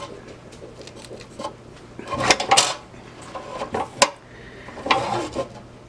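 A turducken being carved on a platter for a Christmas dinner: scattered clinks and scrapes of knife and serving utensils against the dish, irregular and close, with soft background hum.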